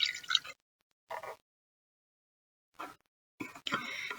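Half a cup of hydrogen peroxide poured into a bowl, heard as brief close splashing and trickling bursts separated by silence, ending in a longer pour.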